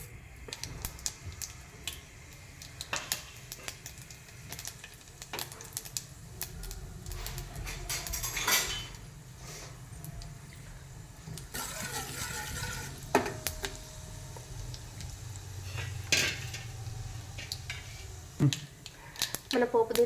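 Mustard seeds, cumin and other tempering spices fry in hot oil in a pan for a pepper rasam, a soft crackling sizzle with scattered pops and utensil clinks, heard close under occasional talk.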